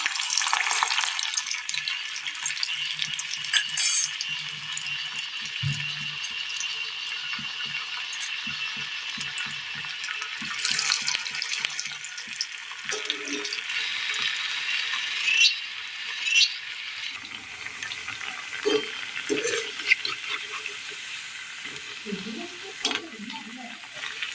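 Soya chunk snacks frying in hot oil, a continuous bright crackling sizzle heard up close, with occasional stirring clinks and scrapes in the pan.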